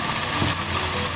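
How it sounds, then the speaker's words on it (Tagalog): Pork loin frying in a home kitchen pan, a steady close hiss of sizzling oil, continuous and loud with no talking. "I'm still frying po ng pork loin."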